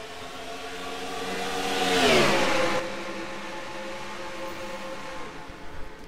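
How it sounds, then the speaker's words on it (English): A field of 42 race cars taking the green flag at Darlington, engine roar climbing to a loud sweeping pass near the middle and then easing to a sustained drone. "Drivers, all 42 drivers getting ready to race at Darlington."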